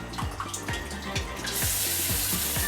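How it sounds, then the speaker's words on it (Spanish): Water from the feminine bidet jet of a Japanese toilet, first a gurgling trickle, then a steady bright hiss of spray that swells after a moment and holds, close and moderately loud with no voices. "Y luego está el chorro femenino."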